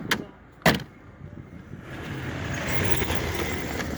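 A car packed with people pulls up on a forest track. A couple of sharp knocks come early, then a broad engine and road rumble builds steadily and stays close and fairly loud to the end.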